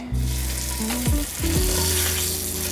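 Steak seared edge-first in a hot skillet with refined bacon grease, a loud, close, steady sizzle with a sharp surge as the meat hits the pan, alone without voices.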